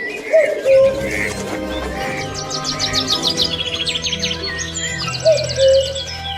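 Bird calls and chirps repeat across the span, with a low cooing call near the start and again near the end, fitting the song of a common cuckoo, a brood-parasitic bird that lays its eggs in other species' nests.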